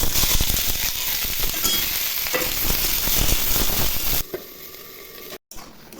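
Jujubes fry in a little mustard oil in a wok, giving a loud, dense, crackling sizzle close up that abruptly drops to a quieter hiss near the end, with a short silent break.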